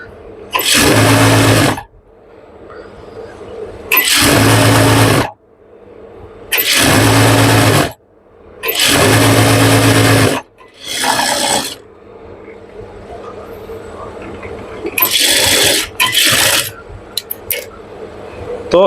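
Domestic sewing machine stitching poplin pajama fabric in bursts: five or six loud, steady runs of a second or two each, separated by short pauses with quiet handling noise, close up and without talk.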